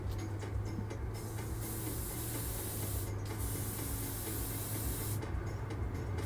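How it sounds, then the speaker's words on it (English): Paint sprays from a hobby airbrush in a continuous hiss that rises and drops in brightness as the trigger shifts, close by and steady for several seconds. "I'll put a few drops in my airbrush and see how it sprays."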